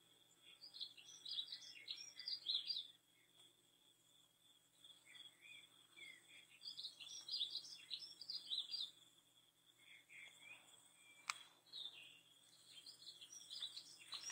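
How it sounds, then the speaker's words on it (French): Birds sing in scattered bursts of high chirps and short trills from a little distance, with quiet gaps between phrases and a faint insect hum underneath. "Un oiseau ici et là se fait entendre."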